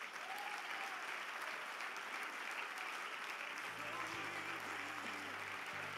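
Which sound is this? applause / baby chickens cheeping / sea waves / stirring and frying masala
applause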